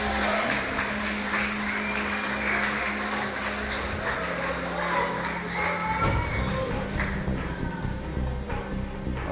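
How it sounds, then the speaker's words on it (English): Audience at a sports draft session applauding and cheering, a steady wash of clapping with scattered shouts and thuds that continues loudly throughout. "Give them a big round of applause."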